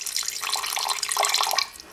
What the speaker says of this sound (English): and add water to cover.